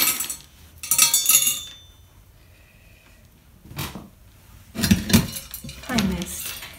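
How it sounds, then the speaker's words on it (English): Small pieces of stained glass clink and rattle as they drop into a little frit machine, two bright bursts of clinking separated by a quieter gap, close and clear in a room with someone talking nearby. "I'm going to put my pieces of glass in this little Frit machine"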